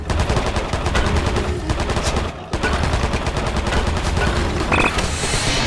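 Rapid gunfire from the Attack of the Movies arcade shooter, a dense, continuous stream of loud, close shots with a brief pause midway before the barrage resumes.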